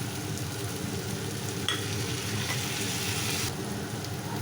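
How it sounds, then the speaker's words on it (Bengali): Potato and pumpkin pieces with green chillies sizzle and crackle in a pan, a continuous close frying hiss with a spatula scrape or two; nobody talks. "আলু আর কুমড়োটা একটু ভাজা হয়ে এলে আমি এর মধ্যে দিয়ে দেবো চিড়ে রাখা কাঁচা লঙ্কাগুলো"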